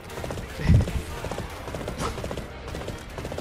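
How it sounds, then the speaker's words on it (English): In the video game Arslan: The Warriors of Legend, a horse's hooves clip-clop in a steady rhythm with a neigh, up close over a busy game soundscape. "Standing near a horse mount and L2 to call the horse and dismount."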